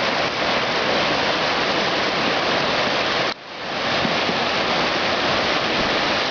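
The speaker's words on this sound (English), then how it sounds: "Today it's a raging torrent." Flooded Simmonds Creek at Mount Beauty, normally a narrow stream, roars as a raging torrent in a steady, loud, broadband rush that dips briefly in the middle before resuming at full strength.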